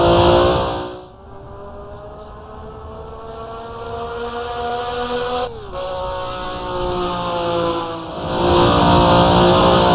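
A vintage car in the Assetto Corsa racing game accelerates down a straight, its engine note climbing steadily through the gears with one brief shift dip midway, loud and continuous with no talking.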